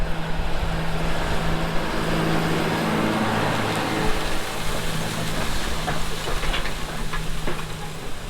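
A tractor runs steadily while tilling corn stalks in a field, a continuous low engine drone with a broad hiss of soil and stalks, constant and fairly loud throughout.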